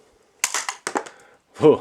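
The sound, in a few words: Nerf blaster firing foam dart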